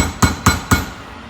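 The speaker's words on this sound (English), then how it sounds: "I'm actually going to move to a larger hammer" Three sharp metallic strikes from a larger hammer on a steel punch drifting a dovetail sight on a VP9 pistol slide, evenly spaced about a quarter second apart, close and ringing briefly, with no talking.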